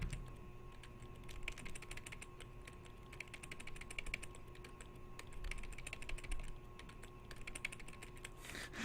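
Plastic buttons on a guitar-style game controller click and clack in quick, irregular bursts, close and fairly faint, with no voices.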